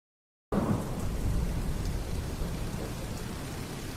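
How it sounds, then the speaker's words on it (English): A heavy thunderstorm with steady pouring rain and a deep thunder rumble starts abruptly after a short silence and continues loud and unbroken. "this storm is crazy."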